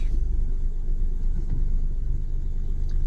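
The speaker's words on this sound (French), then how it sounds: "Laissons chauffer un peu la voiture avant de rouler." A car engine idles while warming up before a drive, a steady close low rumble with slight fluctuations and no speech.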